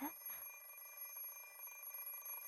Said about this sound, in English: I peer at the alarm clock through sleep-heavy eyelids.